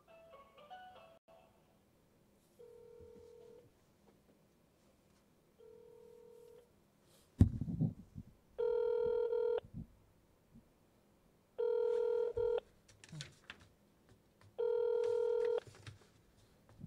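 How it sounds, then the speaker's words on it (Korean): A phone call is placed during a pro league game broadcast: short dialing tones, then a loud burst of handling noise and three evenly spaced ringback tones, all clear and close with some faint background sound. "자, 임진목 선수 통화 돌아가겠습니다."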